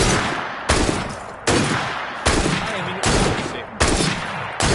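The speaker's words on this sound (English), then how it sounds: "That sounded like a second gunshot." Gunfire from the video game Assassin's Creed Syndicate comes as six loud, evenly spaced shots, each a sharp crack with a short decaying tail, while a voice speaks briefly underneath.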